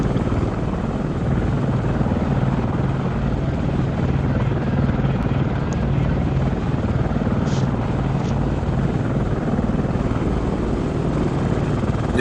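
A helicopter in the Arma 3 video game flies during a reinsertion onto a landing zone. Its rotor drone stays loud and steady throughout, with a low pulsing throb and a broad whoosh.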